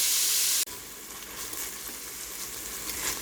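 Beef browns in a pot for a stroganoff, giving a steady, close sizzle after a brief louder burst of hiss at the start, with no talking.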